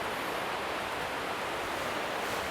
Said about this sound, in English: The river is ripping,